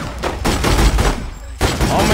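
Gunfire in The Godfather 2 game, a loud rapid volley of shots bursting close by in quick succession, with no talk over it.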